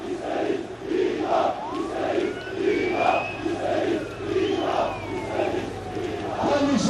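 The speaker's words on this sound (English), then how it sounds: "The crowd is chanting" Large crowd of supporters chanting in rhythmic, repeated bursts during a political rally for the Turkish president, with the massed voices rising and falling in steady waves.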